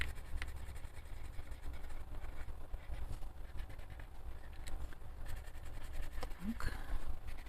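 Coloured pencils scratching across an illustration in a colouring book, a faint, close, continuous rasp with quick stroke-by-stroke texture.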